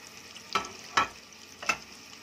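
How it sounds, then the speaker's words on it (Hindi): Spices roasting in a pan over a medium flame, quiet background broken by three short, distinct scraping stirs. "इसको मीडियम फ्लेम पर रख के इसको हम अपने मसाले को अच्छे से भून लेंगे"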